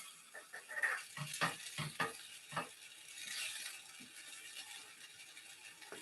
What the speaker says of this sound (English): I've got a tablespoonful of low protein cream cheese, which I'm going to melt into the mushroom liquid. Give that a little stir.